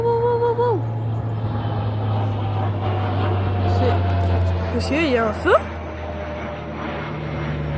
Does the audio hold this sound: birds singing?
no